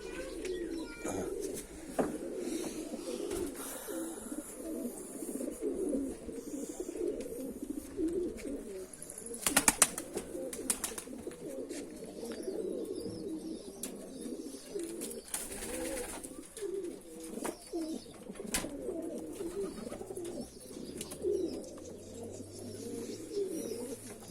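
Pigeons coo steadily in a coop, several birds overlapping in a continuous murmuring chorus with occasional wing flutters and brief louder bursts, fairly close and with no talking.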